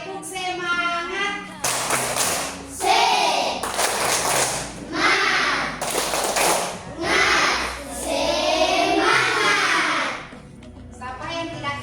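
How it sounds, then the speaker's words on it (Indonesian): A fourth-grade classroom claps in rhythmic bursts of patterned applause, several loud rounds separated by short pauses, with children's voices chanting between the claps. "kita beri tepuk tangan"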